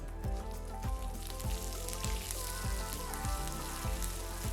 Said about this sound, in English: Saute the tempering ingredients until they are golden brown in color